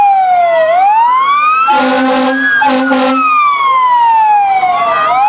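A fire engine siren wails loud and close at a Christmas parade, rising and falling in long sweeps, interrupted midway by a few blasts of a deep air horn.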